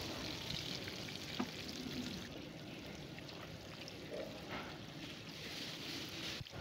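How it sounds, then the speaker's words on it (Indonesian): Seasoned, coated tempeh frying in hot oil in a home kitchen gives a soft, steady sizzle and crackle with small pops, fairly quiet and uninterrupted. "Setelah dibalur rata, biarkan 1-2 menit dan mari kita goreng."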